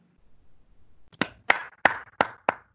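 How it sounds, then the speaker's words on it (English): Five sharp hand claps ring out in a loose, uneven rhythm against an otherwise quiet background, each one distinct and fairly close. "So everybody can clap for each other."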